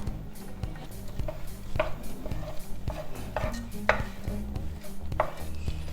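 Rice is stirred in a clay casserole before broth goes in for a fish rice dish, a spoon scraping and knocking against the pot in irregular strokes over a low sizzle.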